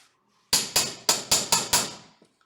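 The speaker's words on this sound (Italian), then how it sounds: "Due martelli sulla piattina" Six sharp metallic taps of two hammers on a metal strip of a pool table, in quick succession, close and ringing, followed by a faint clink and quiet.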